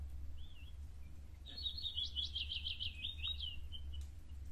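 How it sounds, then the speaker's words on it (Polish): Small birds chirp and trill in a quick run of high notes, fairly faint against a low steady hum, picked up by a Reolink security camera microphone. "Ptaszki słychać."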